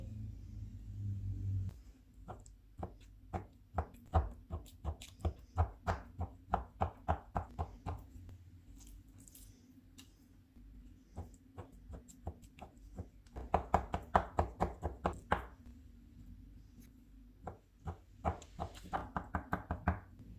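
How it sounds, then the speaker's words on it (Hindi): A fork pricks raw chicken pieces against a bowl or board, a steady run of sharp knocking taps near and clear, coming in quick bursts with short pauses and a faster flurry near the end, with no talking. "चिकन के पीसेस को फोर्क की मदद से प्रिक करेंगे।"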